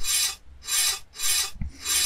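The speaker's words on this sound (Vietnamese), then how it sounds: "Lại cưa bơm tiếp tục thôi." Sawing a pump in the Vietnamese horror video game Stay Still: three loud, rasping back-and-forth strokes close up, separated by short pauses, with a dull knock before the last stroke begins.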